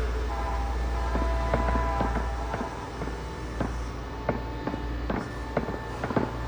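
Train in the video game Batman The Telltale Series: a steady rumble runs throughout with repeated metallic clanks and knocks, some faint tonal hum on top, fairly near and continuous, with no talk.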